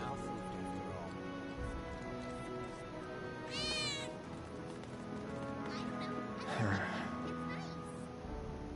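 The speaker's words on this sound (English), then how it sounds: "did you hear that just now? I think one of Betty's cats might" A cat in the video game Final Fantasy VII Remake gives one or two short meows over a steady game ambience and background music, with no one talking.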